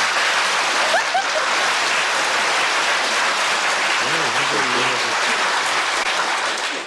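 A studio audience on a 1973 television game show applauds steadily and loudly throughout, a dense wash of clapping with a brief voice murmuring underneath partway through.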